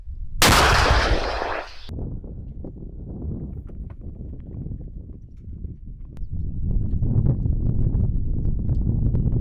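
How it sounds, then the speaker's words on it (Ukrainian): A single loud, sharp gunshot cracks near the start during fighting in Chasiv Yar, followed by a long fading rumble and low outdoor noise. "Постріл!"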